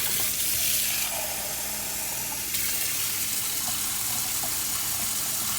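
Water gushes steadily from a kitchen tap for several seconds, a loud, continuous hiss of running flow with no talk over it.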